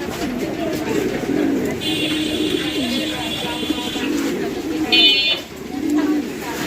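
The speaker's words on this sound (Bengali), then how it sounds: "এটা হচ্ছে গোপালগঞ্জের বড় পায়রা কবুতর" A pair of large Gopalganj pigeons cooing in low, soft, repeated murmurs nearby, with a thin electronic tone sounding twice and a voice talking over them.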